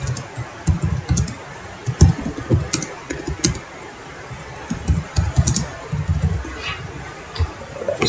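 Fingers type on a computer keyboard while entering tax deposit figures, irregular bursts of close key clicks with short pauses between them, no talking.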